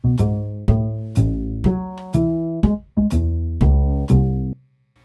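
Backing loop recorded into and played back from a Trio guitar pedal: a run of about nine plucked, tonal notes struck in a steady rhythm, each ringing briefly before the next, loud and close, ending in abrupt silence.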